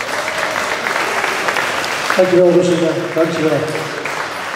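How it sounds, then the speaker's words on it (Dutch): An audience at a Melody Line benefit claps steadily in a hall while someone speaks over the applause to thank a presenter, his voice rising above the clapping partway through. "Applaus alsjeblieft."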